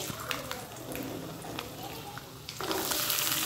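Vegetables fry in a pan with a steady soft sizzle, briefly swelling louder near the end, while someone talks over it in a home kitchen.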